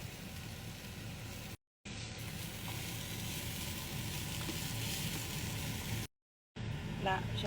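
Minced meat and onion frying in a pan with a steady, close hiss and crackle, briefly cut off twice, with tomato sauce being added and some soft stirring noises.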